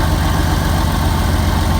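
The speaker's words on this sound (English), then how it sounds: "that's a beautiful sound. No more exhaust leak coming from the O2 sensor." A 1986 Pontiac Fiero SE engine idles steadily after its exhaust leak at the O2 sensor was fixed, a loud, close, even rumble with a smooth vibration and no talking.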